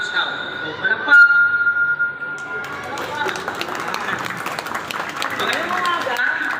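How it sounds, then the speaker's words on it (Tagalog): An audience claps for newly invested Cub Scouts at an elementary school ceremony, the applause swelling after a moment into a dense, sustained patter from many hands, with an amplified voice talking over the start. "So, palakpak!"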